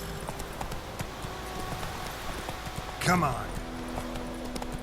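Clip-clopping hooves of Roach, a horse in The Witcher 3 game, heard as a soft steady rhythmic patter beneath a conversation, with a brief louder sound partway through.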